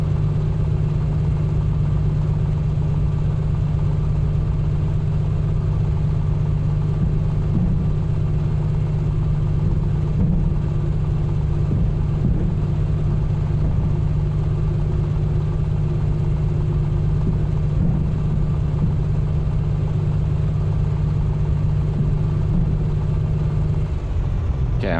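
The piston engine of an A2A PA-24 light aircraft in Microsoft Flight Simulator 2024 runs steadily, a loud, close, continuous low drone with a strong hum, holding an even level throughout.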